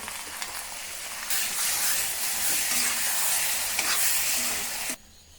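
Chopped lemon stirred into sizzling pickle masala in a pan for a homestyle Kerala lemon pickle, a steady loud frying hiss with soft stirring scrapes that cuts off abruptly near the end.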